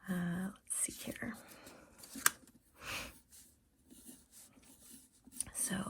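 Pencil sketching on paper for a gratitude poster, soft scratchy strokes in short bursts, quiet and close, with a whispered voice speaking in between.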